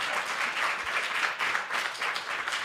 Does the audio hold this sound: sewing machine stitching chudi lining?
no